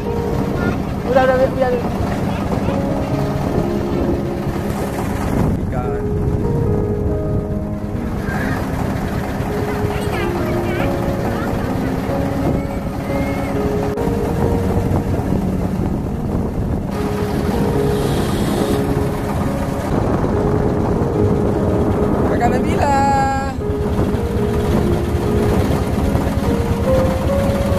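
A boat engine drones steadily on Lake Laut Tawar in Aceh, Indonesia, its low rumble mixed with wind buffeting the microphone while people talk nearby.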